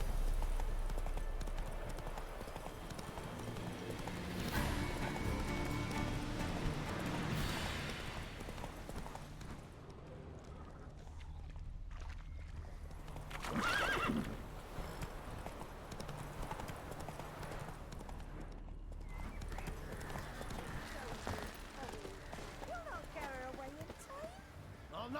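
Horse hooves clip-clopping at a gallop in the video game The Witcher 3, with a brief whinny, under steady game music and ambience, with voices talking at times.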